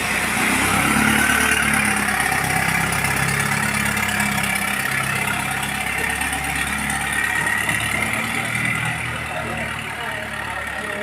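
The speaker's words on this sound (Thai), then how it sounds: "เรือหางยาวลำใหญ่เลยนะคะได้สองคน" Large Thai long-tail boat engine running steadily, a loud continuous motor drone that holds throughout with rough low-end rumble, slightly easing near the end.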